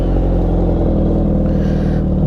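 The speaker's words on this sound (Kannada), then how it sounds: "ಒಂದು ಸಲ ಎಕ್ಸಾಸ್ಟ್ ನೋಟ್ ಕೇಳ್ಬಿಡೋದ" A 2024 Suzuki Hayabusa Anniversary Edition superbike with a carbon-fiber-capped Brocks Performance exhaust rumbles close by, a deep, steady engine note with slight rises in revs throughout.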